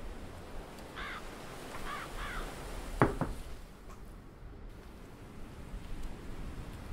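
A crow in the video game Vendetta: The Curse of Raven's Cry gives a few short caws in a loose sequence over steady background noise, followed by a sharp click and hissing ambience.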